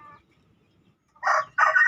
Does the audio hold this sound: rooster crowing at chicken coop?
yes